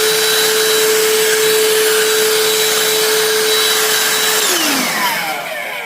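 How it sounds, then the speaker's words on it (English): A cordless handheld Hoover vacuum cleaner runs loud and close with a steady high whine while sucking up dust, its pitch dropping as the motor winds down near the end. "It can either be a handheld Hoover."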